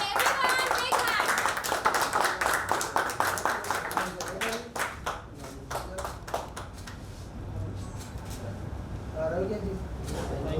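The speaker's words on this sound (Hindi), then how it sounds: "थोड़ी और तालियां होनी चाहिए।" A crowd at a song launch gives a big hand, dense rapid clapping that is loud at first, then thins and fades out as voices and chatter take over.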